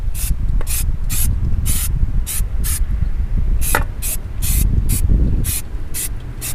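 Repeated short hissing bursts of a spray bottle as protectant is coated over car wheels on a Tahoe SS and Z28, about a dozen quick irregular sprays close up over a steady low rumble, with no talking.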